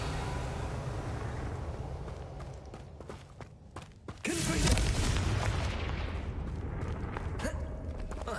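A Confringo fire-blast spell going off in Hogwarts Legacy, a sudden heavy boom midway that rolls into a dense, rumbling burst of debris after a stretch of scattered game clatter and footsteps.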